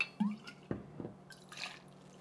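Hangar 1 Margarita lime vodka poured into a measure for a cherry blossom cocktail, a few soft splashes and drips against glass, quiet and close with no talking.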